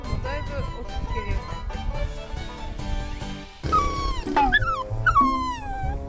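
Jack Russell terrier puppies at a seaside beach in Shonan, with a dog giving high, wavering whimpers and yips near the end, heard over steady background music and voices.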